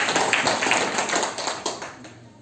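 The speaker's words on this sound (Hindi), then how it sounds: "तो एक बार उनके सम्मान में ताली हो जाए।" An audience at a marketing business event applauds in honour of the company's managing director, a brief burst of clapping from many hands that fades out over a couple of seconds.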